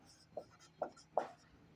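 Three quick, faint marker or chalk strokes on a board during a physics class, evenly spaced scratchy taps over a quiet room.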